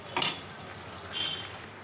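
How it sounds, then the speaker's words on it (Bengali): Pineapple chutney seasoned with coriander, cumin and black pepper powder is stirred in a pan, with one sharp metallic scrape of a utensil followed by soft, faint scraping and a low sizzle. "ধনে জিরার গুঁড়োটা একটু দিয়ে দিচ্ছি, আর একটু গোলমরিচের গুঁড়োটা একটু দিয়ে দিচ্ছি। এবার নাড়ব।"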